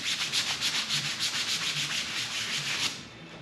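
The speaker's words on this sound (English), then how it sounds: "Stiff bristle brush." A stiff bristle brush scrubs waxed tin cloth in steady, rhythmic back-and-forth rasping strokes, close and fairly loud, then stops abruptly near the end.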